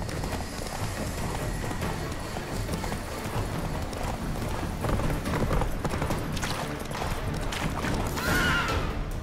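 Hooves of Geralt's horse Roach in The Witcher 3 clip-clop in a steady, fast rhythm on the ground, moderately loud and close throughout, with a brief rustling flourish near the end.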